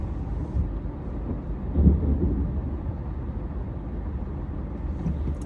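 Thunder rumbles low and distant during a storm, swelling briefly to a deep roll. It sits over the quiet drone of a moving vehicle on the road.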